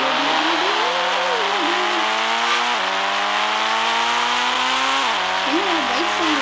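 A motorbike engine revs loudly and continuously in the video game Indian Bike Driving 3D, its droning whine rising and dropping in pitch with each gear shift.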